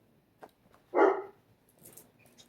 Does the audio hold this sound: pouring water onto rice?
no